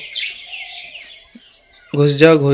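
Small pet birds chirp and tweet in quick, bright calls while feeding, close by, followed by a brief burst of a person's voice near the end.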